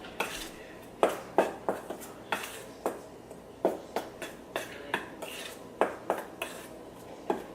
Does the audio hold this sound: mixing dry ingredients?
yes